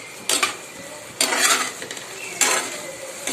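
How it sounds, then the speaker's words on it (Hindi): Okra (bhindi) cooking in a home kitchen pan is stirred with a utensil, giving three sharp scraping clatters spaced about a second apart over a quiet sizzle. "ये देख सकते हैं भिंडी मेरी बन रही है"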